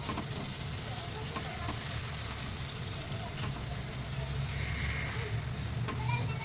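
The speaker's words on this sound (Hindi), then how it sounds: "मसाला थोड़ा सा भूनने देंगे हम" Masala spices frying in a pan for bheja masala, a brain curry, give off a dense, continuous sizzle with soft stirring, steady and close throughout.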